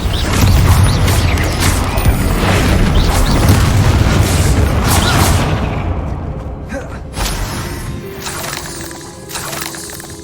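The Bombarda explosion spell in Hogwarts Legacy goes off as a loud, close blast, with crackling debris and shattering that dies away into a quieter rumble and scattered clatter.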